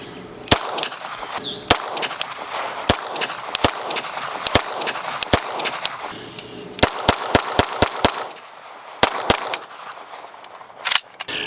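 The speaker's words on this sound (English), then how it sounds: "Alright, do some more semi-automatic shooting." An RS9 MP5-K style firearm firing semi-automatic, with sharp single shots in uneven bursts, some close together and some spaced apart, over a quiet outdoor background.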